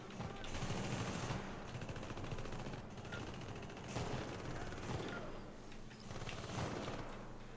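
Gunfire in the game Syndicate comes as rapid automatic bursts, loud and close, with short gaps between volleys over a constant noisy background.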